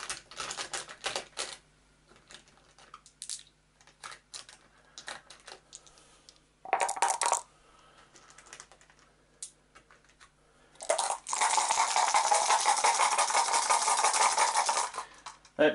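Seven dice for an Eldritch Horror board game rattle and clatter in several short clicky bursts, then a long, dense, close rolling clatter near the end.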